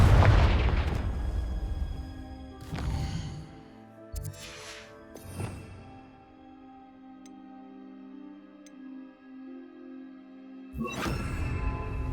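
A Confringo fire spell in Hogwarts Legacy bursts with a loud, close explosive boom, and several further booming blasts follow across the stretch, separated by quieter lulls.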